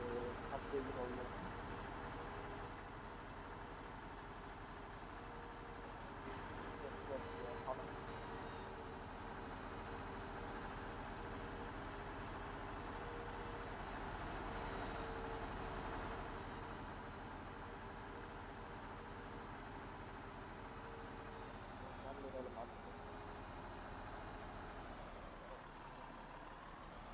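A Farming Simulator 19 articulated tractor engine drones steadily for the whole stretch, a low continuous hum with faint tonal whine, moderately quiet, with a couple of short rising squeals near the end.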